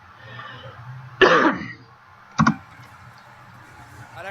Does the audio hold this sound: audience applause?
no